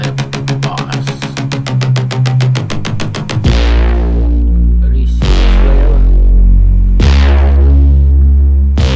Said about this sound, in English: Drop bass, slap bass.